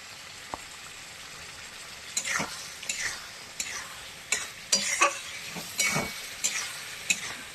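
Okra pieces added to a pan and stir-fried, a soft sizzle broken by repeated sharp scraping and clattering stirs at an uneven rhythm, close and fairly quiet.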